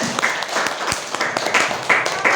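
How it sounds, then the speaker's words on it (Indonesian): Students in a classroom clap for a group during a physics lesson, with uneven, moderately loud clapping and a few sharper individual claps. "Beri tepuk tangan untuk kelompok 3"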